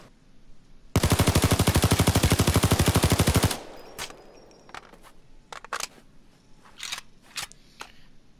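An L85A2 assault rifle in Payday 2 fires one long, steady full-auto burst of rapid, evenly spaced shots, loud and close, followed by a few scattered clicks and clatters.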